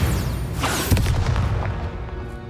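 The Bombarda blasting spell from Hogwarts Legacy goes off as one loud, close boom with a crackling burst. A rumbling tail rolls off and fades over the following two seconds.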